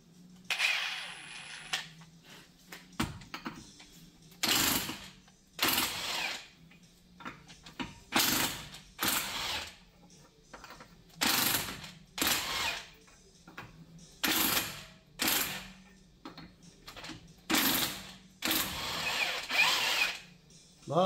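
A cordless impact wrench takes the wheel off a car in a home garage, loud close bursts of rapid hammering, about ten short runs with brief pauses between them, and no talking.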